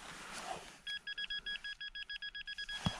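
A metal detector sounds a rapid run of about a dozen short, close electronic beeps over a clod of earth during a dig, followed by a faint thud.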